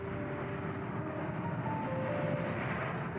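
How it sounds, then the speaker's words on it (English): Steady, dense broadband roar of airplanes flying near Madrid airport, a continuous engine rumble filling the whole stretch with faint tonal whines on top and no pauses. "The usual deafening and ceaseless air traffic suddenly stopped during the lockdowns."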